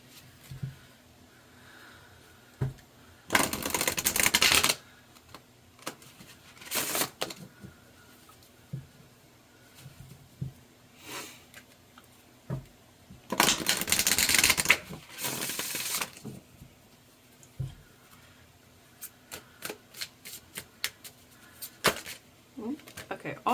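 Tarot cards being shuffled in two longer bursts of dense riffling with a few shorter flicks between, close and fairly loud, with quiet pauses and faint background sounds in between.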